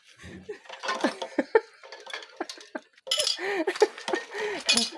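A three-year-old child handles a spoon, ladle and dishes at home, making repeated light clinks and clatters close by, mixed with adult talk and giggling.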